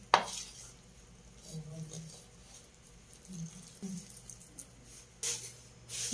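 A chicken longganisa mixture with two spoons of flour being mixed in a bowl, with soft scraping and clinking of a utensil against the bowl in close, irregular strokes and no voices.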